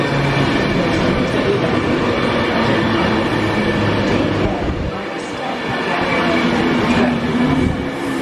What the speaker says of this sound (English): Please stand back on the platform edge until the train has left.